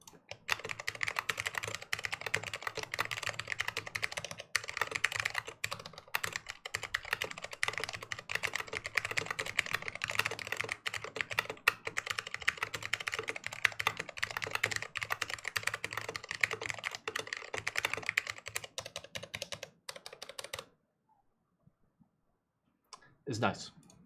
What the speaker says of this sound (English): I am typing on an AEK 64 with brown Alps.